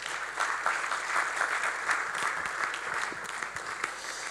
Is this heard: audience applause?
yes